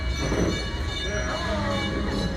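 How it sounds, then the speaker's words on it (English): Edison locomotive train running at night, a steady loud rumble of wheels and carriage noise throughout, with a faint murmur of voices in the background. "please remain seated till the train comes to a complete stop"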